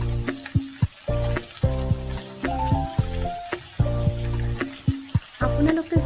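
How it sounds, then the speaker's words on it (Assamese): Jackfruit seeds and bitter gourd leaves sizzle and crackle in a hot pan while a spoon stirs and scrapes them in uneven bursts, with faint background tones between strokes and no speech. "এতিয়া গোটেইখিনি ভালদৰে লৰাই দিছোঁ।"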